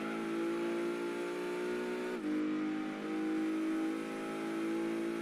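Race car engine in Gran Turismo 2, a ZZ-S Coupe chasing a GT1 car, droning steadily at high revs with a brief gear-shift dip before climbing again, loud and close.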